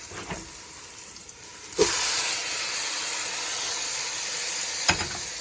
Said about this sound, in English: So now we're going to go ahead and throw our pearl onions in there.